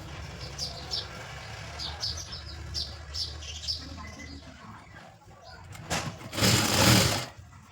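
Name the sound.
sewing machine stitching fabric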